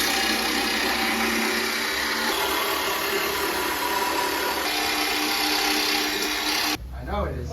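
A power saw or similar tool cutting wood while building a DIY birthday party backdrop, a steady loud buzzing drone running for nearly seven seconds before cutting off abruptly, followed by brief quieter sounds.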